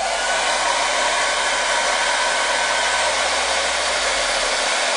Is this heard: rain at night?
no